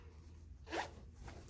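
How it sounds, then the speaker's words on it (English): A single quick zip of the inside zipper on a sewn crossbody bag, close and crisp, sitting in a quiet room with no talk. "the inside zipper."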